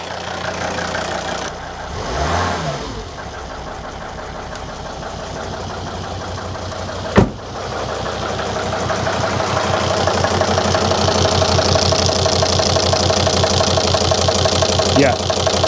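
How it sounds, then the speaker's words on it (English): A 2003 Volvo XC90 D5 diesel with a misfire idles roughly up close, its steady knocking drone swelling briefly with a throttle blip before settling, as the engine note gradually builds louder. "Just going to give the throttle another blip."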